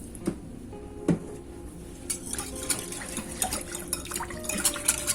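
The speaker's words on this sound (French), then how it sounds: "On va y ajouter du vinaigre" White vinegar poured into bread dough in a mixing bowl for meat-filled buns, a soft wet trickle with small clinks and splashes close by, no talking.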